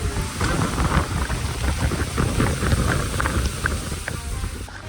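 Heavy thunderstorm rain pours down in a steady, dense roar, close and loud, with no voices.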